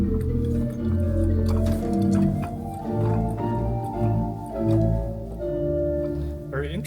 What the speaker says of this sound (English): We've got an 8-foot flute